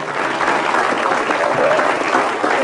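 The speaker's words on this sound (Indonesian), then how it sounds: "kita kasih tepuk tangan dulu lah ya" An audience claps together in a steady, dense round of applause at a talk show event, filling the room at moderate loudness without interruption.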